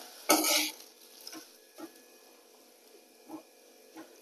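Lote fish frying in a pan with onion, garlic, curry leaves and mustard seeds, a loud initial sizzle as it hits the oil, then intermittent scraping stirs and soft crackling.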